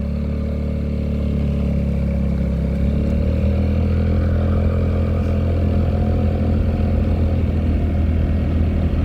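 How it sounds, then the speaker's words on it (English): A Vespa GTS 300 scooter engine idles steadily at the roadside, a close, continuous low mechanical rumble with light clatter that holds even and unbroken throughout. "your fan comes on quite quickly when you stop at the side of the road with the engine ticking over"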